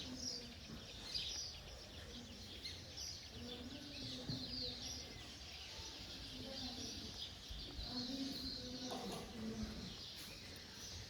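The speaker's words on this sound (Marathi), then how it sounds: "पक्ष्यांचा ना खूप छान असा सकाळचा इथं किलबिलाट चालू असतो." Early-morning birds chirp and pigeons coo faintly in the background, a continuous quiet twittering with a distant voice now and then.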